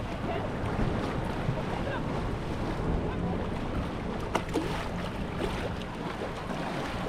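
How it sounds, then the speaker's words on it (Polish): Water sloshing and splashing against stone steps that lead down into the water, a steady broadband wash with wind buffeting the microphone throughout, close and moderately loud with no clear talk. "To jest takie fajne zejście do wody, woda się chlapie"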